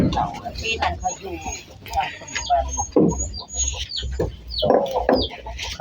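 Free-ranging farmyard chickens cluck and chatter continuously at close range, with overlapping hen calls over a busy outdoor background.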